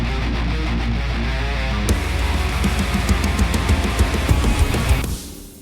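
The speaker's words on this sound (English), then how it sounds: "It's a riser, and then an impact." An electronic riser swells in a music mix over a pulsing beat, building steadily before a final hit cuts it off, leaving a short fading tail; no voices.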